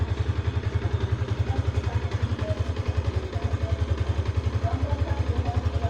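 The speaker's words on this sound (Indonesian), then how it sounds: "Selah aja cuy, mumpung motor masih ada selahannya gitu" A Yamaha MX King motorcycle engine runs close by with a fast, steady, even thump and a slight mechanical clatter, without talk.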